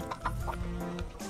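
Backyard chickens cluck in short soft bursts under a steady background din, with no talk.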